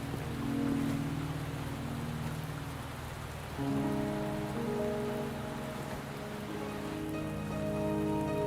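Steady rain falling in the video game Wuthering Waves, an even, close hiss of rain with soft game music tones underneath, no voices.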